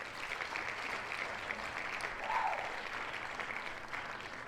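A canned cheer-and-applause sound effect plays during a World of Warcraft podcast. The crowd noise is faint and steady, with no talk over it for several seconds.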